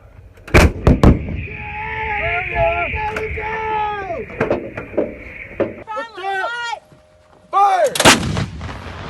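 Mortar rounds fire in loud, sharp booms at intervals, with shouted commands and voices between the blasts.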